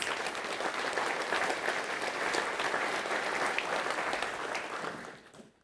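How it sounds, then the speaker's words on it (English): A big round of applause from an audience at a Michigan Wheat Program meeting, thanking the host staff: dense, sustained clapping from many hands that holds steady and then fades out near the end. "let's take a minute and give them a big thank you round of applause"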